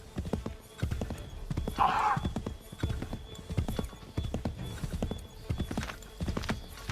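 Horse hooves clip-clop in a steady, even rhythm in Assassin's Creed 3 Remastered, moderately close, with a brief whinny partway through and no talk.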